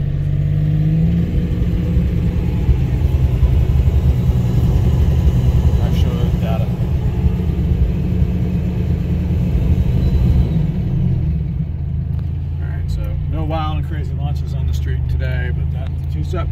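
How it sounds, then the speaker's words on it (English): Car engine held on two-step launch control, a loud, steady rumbling rev that stutters and breaks up throughout, with people talking over it toward the end. "I'm just gonna bring your RPMs up, and you should hear it break up."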